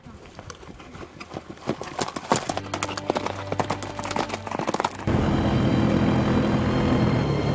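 Hooves of a Kalber Arabian horse clip-clopping at a stud farm, a steady close rhythm of sharp strikes that gives way to a broad continuous engine-like rumble near the end.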